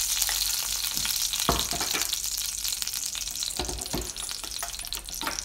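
Onions frying in hot oil, a steady, dense sizzle that stays loud throughout, broken by a few scraping stirs of a spoon in the pan.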